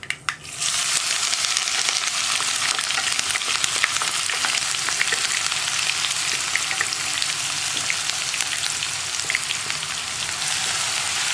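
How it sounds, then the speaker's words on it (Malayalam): Crushed shallots fry in hot oil after mustard seeds, making a loud, continuous crackling sizzle with occasional stirring scrapes, close up and free of speech, for a kovakka stir-fry. "നമുക്കിനി ചതച്ച് വെച്ചിരിക്കുന്ന ഉള്ളി ചേർക്കാം"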